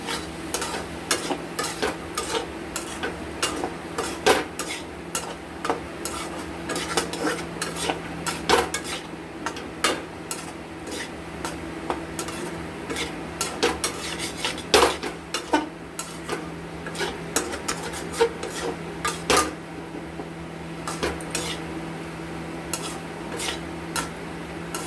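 Chicken and chickpea ghugni being stir-fried together in a pan, a steady sizzle under repeated sharp scrapes and clinks of a spatula against the metal, loud and close throughout with no talking.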